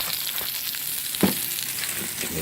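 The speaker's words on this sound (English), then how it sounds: "Now while they're frying up" Boiled eggs with salt and pepper frying in a cast iron pan, a steady close sizzle with small pops and one brief clatter partway through.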